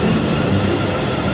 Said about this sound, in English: this train is going, even though it's even a little bit late, it's non-stop Watford Junction